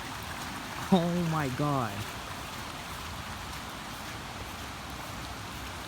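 A flooded creek running unusually high makes a steady broadband rush of water. A voice speaks briefly over it early on, then the torrent carries on alone.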